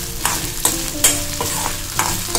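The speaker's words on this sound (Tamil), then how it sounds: "2 நிமிஷத்துக்கு இதை வதக்குங்க போதும்." Green chillies and ginger sauté in oil in a pan, a steady close sizzle broken by a handful of sharp spatula scrapes and taps at irregular intervals, with no voices.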